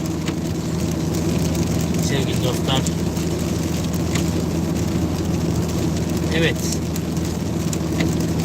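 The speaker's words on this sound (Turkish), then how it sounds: "Yağmur devam ediyor." Rain and wet-road hiss surround a car driving on a wet road after leaving a tunnel, heard as a continuous loud wash with a steady engine hum, while someone talks briefly over it.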